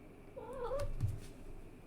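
A pet cat meows once indoors, a clear, close, slightly drawn-out call with a rising then falling pitch, followed by faint room noise.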